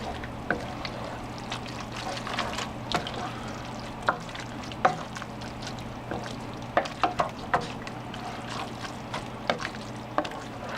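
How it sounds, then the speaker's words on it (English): Garlic shrimp pasta being stirred in a pan, with a steady soft sizzle under repeated scraping and clinking of the utensil against the pan, close and moderately loud, no talking. "Just give it a good little stir."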